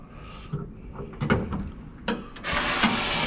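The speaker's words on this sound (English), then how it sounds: "The hood is already popped here, but we'll go ahead and open it up." The hood of a restored 1957 Chevrolet 210 two-door sedan is lifted open with a few soft metallic clunks and a creaking slide, followed by a steady rushing noise, close by with no talk.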